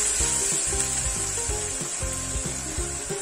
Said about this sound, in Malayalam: നമുക്ക് 1 ടേബിൾ സ്പൂൺ ഇഞ്ചി വെളുത്തുള്ളി പേസ്റ്റാണ് ഇട്ട് കൊടുക്കാം. ഇളക്കി കൊടുക്കാം.